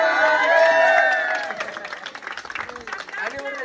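A visiting group of about thirty people claps and cheers at a gathering, with loud voices and singing-like tones at first, then more scattered clapping and chatter.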